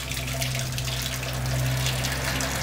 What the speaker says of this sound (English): squeeze this hose and you can hear it now flooding the engine